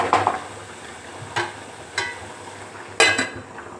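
Spoon stirring red chili powder into prawn curry in a pot, four distinct scraping clinks spaced about a second apart over a faint low hum, close and alone.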